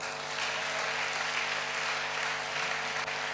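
A church congregation applauds steadily throughout, a dense, even wash of clapping hands.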